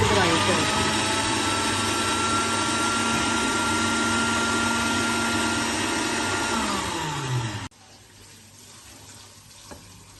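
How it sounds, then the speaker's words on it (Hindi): A grinder whirs loudly as it grinds chickpeas, a continuous high-pitched motor whine that holds steady and then winds down and cuts off abruptly near the end, leaving quiet room tone. "ये आपने थोड़े से चने लेने हैं और इसमें ग्राइंड करना है।"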